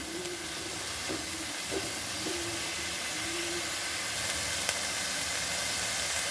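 Taro stolons with dried fish sizzling in a pan over a high gas flame, a steady loud hiss and crackle with occasional soft stirring scrapes, no talking.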